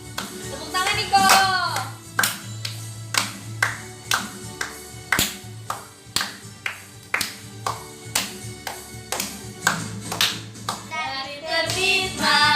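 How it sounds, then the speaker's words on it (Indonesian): Church congregation clapping hands in time to a worship song, a steady rhythmic series of sharp claps about once per second, loud and close, with brief bursts of singing or voices at the start and end. "Tepuk tangan Niko."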